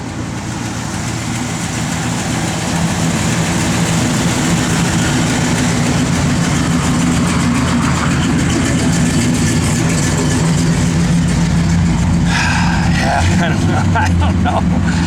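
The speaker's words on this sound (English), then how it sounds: "Got good running big block in it. You know, just runs out nice." A 1968 Chevrolet Chevelle's big-block V8 on pump gas runs with a steady, loud, low rumble close by for the whole stretch, while someone talks over it.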